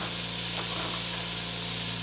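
Thick-cut pork belly fat renders in a pan over medium heat, giving a steady, close, even sizzle with a faint low hum underneath and no talk.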